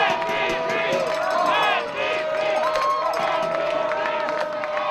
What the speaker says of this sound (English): the crowd's starting to get into this game now